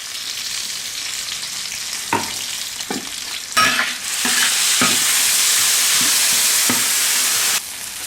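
Red bean paste and chili bean paste stir-fried in a pan: a spatula scrapes in a few sharp strokes, then a loud, steady sizzle swells up, close and dominant, before easing off.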